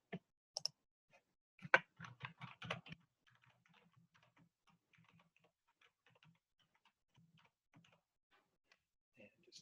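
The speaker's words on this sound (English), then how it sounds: "I can just type that into my calculator as I see it." A short burst of quick, light button taps on a calculator keypad sounds close and clear, followed by sparse, faint clicks and near silence.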